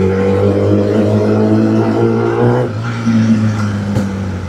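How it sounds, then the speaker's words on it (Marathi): Close, steady motorcycle engine drone with a deep, bassy idle tone and a slight shift partway through, from a Kawasaki Z800 or Dominar 400 ridden alongside a 10R, with no talk. "आपल्या गाडीचा जो आवाज येतो आपल्याच गाडीचा"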